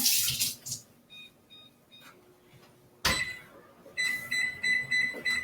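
A kitchen timer beeps during brownie baking: a few short high beeps, then a pause and a sharper run of repeated rapid beeps at the end, over faint kitchen clatter and water sounds.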